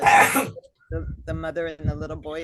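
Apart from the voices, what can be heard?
sneeze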